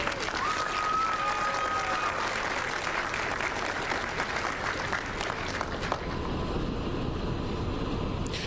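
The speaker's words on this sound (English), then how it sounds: "you can hear the claps" Steady applause from a crowd at a police officer badge-pinning ceremony fills the space, a continuous wash of clapping with a faint whistle-like tone early on, easing slightly near the end.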